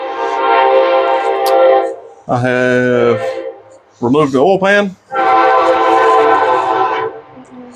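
A passing train sounds long, loud horn blasts in several separate bursts, some steady and some wavering, with a brief spoken phrase in the gap between them.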